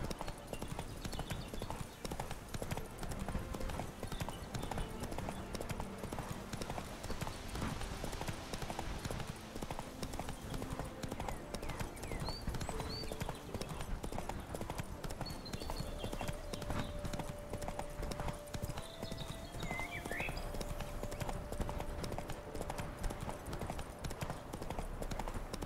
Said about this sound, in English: Roach is actually following the path.